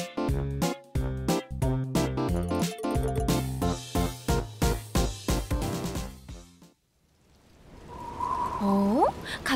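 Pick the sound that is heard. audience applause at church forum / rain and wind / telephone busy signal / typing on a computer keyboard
rain and wind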